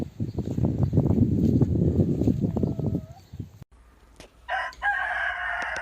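A rooster crows loudly amid a dense chorus of clucking chickens in a coop, followed by a brief lull and then another close crow.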